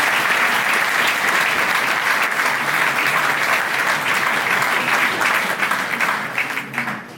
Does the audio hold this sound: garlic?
no